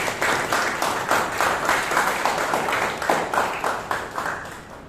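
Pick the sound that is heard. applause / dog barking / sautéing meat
applause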